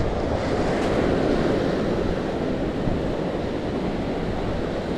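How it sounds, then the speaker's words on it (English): Strong wind buffets the microphone on a beach, a dense continuous roar with crashing surf blended underneath, loud and steady throughout with no voices. "Super windy."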